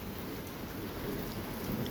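Heavy rain from a supercell thunderstorm pours in a dense, steady hiss, with a low rolling rumble of thunder underneath, faint and distant overall and heard without any talk.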